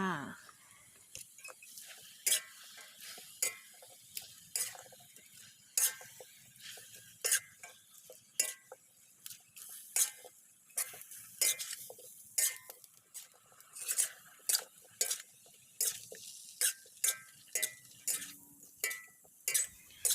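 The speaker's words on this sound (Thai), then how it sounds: "แล้วก็ผัดต่อไปเรื่อยๆจนกว่าผักของเราจะยุบตัวลงค่ะ" A second batch of vegetables for chicken chap chai soup is stir-fried in a pan: a spatula clinks and scrapes against the metal in a steady, repeated rhythm, close and fairly loud, over a faint sizzle.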